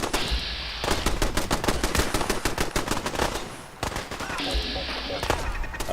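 Rapid automatic gunfire in the Fallout 4 video game, with loud bursts of dense cracking shots that break off briefly and then resume.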